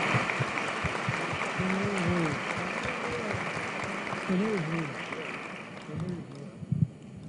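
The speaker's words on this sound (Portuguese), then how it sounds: "Uma salva de palmas" A parish congregation claps during a church broadcast, a steady patter of applause mixed with voices talking and calling out over it, tapering off toward the end.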